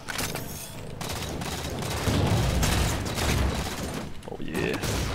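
Gunfire in a Halo game, with dense, rapid shots and mechanical weapon clatter rolling continuously under a busy, chaotic battle mix.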